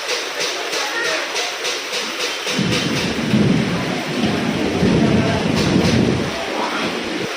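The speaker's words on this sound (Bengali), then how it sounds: "এই দেখো অবশেষে বৃষ্টি নেমেছে" Rain begins to fall, a soft patter swelling into a louder steady wash of drops with a low rumble mixed in, close and continuous before easing slightly at the end.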